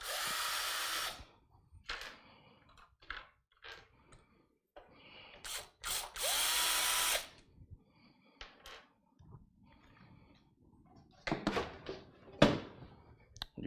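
Screws being backed out of the rear panel of a desktop PC case, heard as short whirring bursts from a small driver broken by clicks, pauses and handling sounds, close and fairly quiet.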